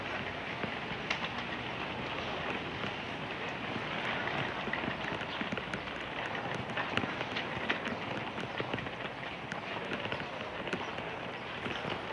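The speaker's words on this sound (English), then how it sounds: "In the pouring rain." Pouring rain on a public sidewalk, a dense, steady hiss of falling water with scattered patters, continuous and moderately loud with no voices.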